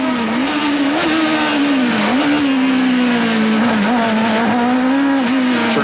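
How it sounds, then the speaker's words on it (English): A 1991 Toyota Atlantic race car on the Long Beach street circuit, its engine note loud and close, dipping and rising through repeated downshifts under braking into the corners with no break in the roar. "listen to the downshifting and the braking that's going to come in just a moment or two"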